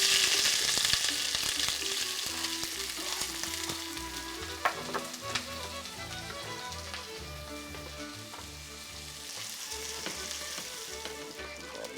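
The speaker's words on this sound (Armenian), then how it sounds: "սոխը տապակենք" Onion fries in hot oil in a home kitchen for a lamb dish. It makes a continuous, loud sizzle and crackle with scattered pops and light stirring clatter, and no one speaks.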